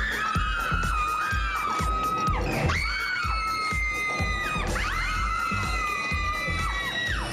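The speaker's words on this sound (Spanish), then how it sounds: "¿Por qué han gritado tanto?" Riders on a virtual reality ride at an amusement park let out loud, sustained group screams that swell and fall in repeated waves over a steady rhythmic thumping, close and continuous throughout.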